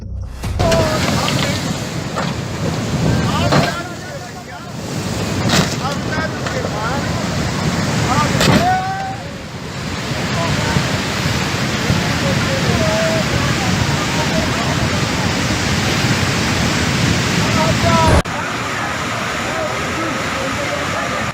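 Loud, continuous roar of a river in raging flood after heavy rains in Himachal Pradesh, India, broad and turbulent, sweeping away a bus, with scattered voices shouting over it and occasional heavy thuds.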